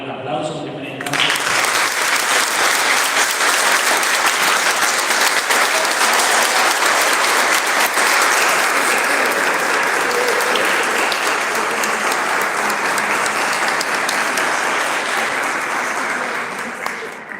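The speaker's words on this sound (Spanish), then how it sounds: "Vamos a dedicarle un aplauso en primera instancia." Audience applause for a speaker at an educational talk, a sustained, dense round of clapping that starts abruptly and stays loud and steady, then fades slightly toward the end, with a brief voice just before it.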